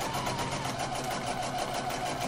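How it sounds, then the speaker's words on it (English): A sewing machine stitches a self-bound seam, running steadily with a rapid, even mechanical whir and faint rhythmic ticking, continuous and close by. "it's a case of taking it to your sewing machine and starting to"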